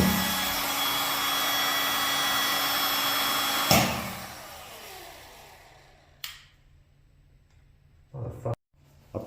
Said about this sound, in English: Personally, I like using a heat gun.